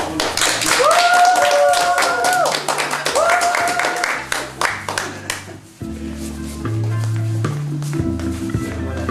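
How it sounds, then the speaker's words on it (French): An audience at a year-end art-therapy workshop gathering in Madagascar claps steadily for several seconds, dense and fairly close, with voices and music mixed in before the applause fades into background music. "On applaudit."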